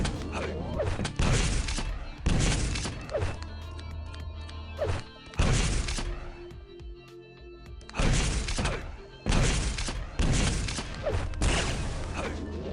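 Gunfire from the arena shooter Quake Live, with railgun shots in a Clan Arena round: loud, sharp broadband blasts that come in separate bursts every second or two, with clanking and mechanical game effects between them.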